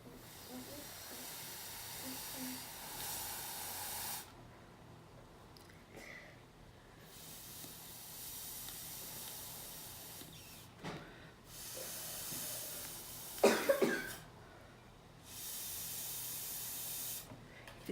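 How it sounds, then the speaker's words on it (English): Raw egg blown out through a straw into a cup, breathy hissing bursts of blowing separated by pauses, with a brief sputtering spurt midway; close and fairly quiet. "you're going to put your straw over top of the hole, and you're going to blow"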